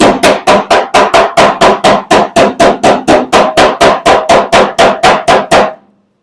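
A hammer strikes the steel body panel of a 1970 Dodge Challenger in a fast, even run of about two dozen loud, sharp metallic blows, heard close and alone, ending abruptly.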